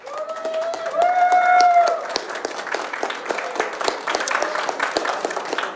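Audience applause at a World of Tanks esports event, the WGL EU Finals, breaking out after a few seconds of sliding electronic tones and continuing as dense, steady clapping.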